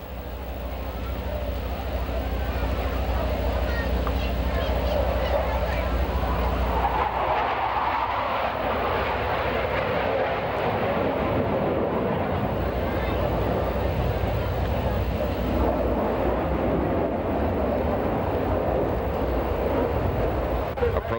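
Thunderbirds and Blue Angels jets flying an opposing hesitation roll at an airshow, a steady loud roar of jet engines passing overhead with broad rushing noise over the whole stretch.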